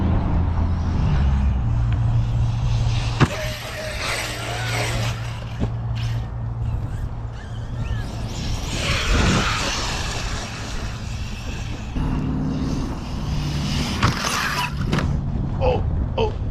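ARRMA Typhon 6s RC monster truck running on a 16-tooth pinion, its electric motor whining steadily through the whole stretch with surges and dips as it accelerates and jumps, close to the microphone with a few sharp knocks.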